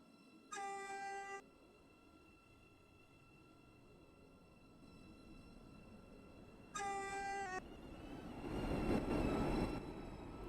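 A train in the Stepford County Railway video game sounds two long, tonal horn blasts several seconds apart, followed by a rising rumble of the train getting underway.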